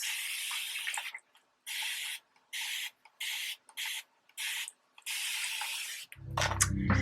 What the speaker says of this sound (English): I spray it with water, as always